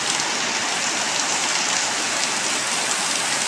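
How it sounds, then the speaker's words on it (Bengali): Heavy rain pours steadily in Dhuliyan city, Murshidabad, during a storm, a dense, loud, unbroken hiss of falling water close by, with no voices. "এখন প্রচণ্ড বৃষ্টি হচ্ছে"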